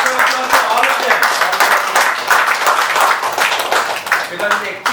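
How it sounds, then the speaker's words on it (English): Audience applause at a humorous speech workshop, dense sustained clapping from a crowd throughout, fairly loud and continuous with no break. "Round of applause for all of them."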